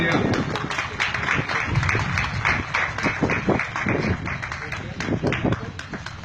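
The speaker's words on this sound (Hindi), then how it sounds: "तालियां।" Audience applause at a public gathering, a dense, steady wash of clapping with shouts and voices mixed in throughout.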